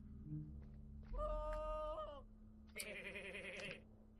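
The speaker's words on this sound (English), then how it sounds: "all of our sound effects have been replaced with goat sound effects, it seems" Goat bleats replacing the sound effects in the video game A Story About My Uncle: two loud, close, wavering bleats in succession, each about a second long, with a pause between them and no talking.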